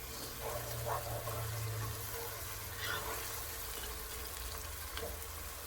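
Ground beef fries in a pan, a steady soft sizzle and crackle with a few faint stirring scrapes, fairly quiet and even throughout.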